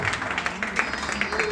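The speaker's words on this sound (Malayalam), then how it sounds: "നല്ലൊരു കയ്യടി കൊടുക്കാം." Applause from an audience at a Cheruvathoor family meetup, with a brief spatter of clapping mixed with murmuring voices across the room.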